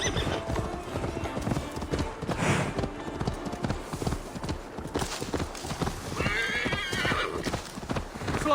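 Horse hooves galloping in the video game Assassin's Creed Valhalla, a rapid steady clip-clop rhythm close up, with a horse whinny and game ambience layered in.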